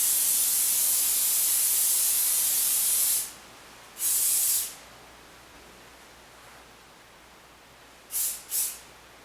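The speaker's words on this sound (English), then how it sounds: "let me go ahead and spray" Hairspray hisses in one long continuous spray, followed after short gaps by a second burst and then two quick short spritzes, close up.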